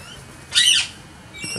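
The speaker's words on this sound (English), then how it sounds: "There's a butcher bird up there." A butcherbird gives a single bright call lasting about a third of a second, fairly loud and close, against quiet outdoor background, with a faint second sound near the end.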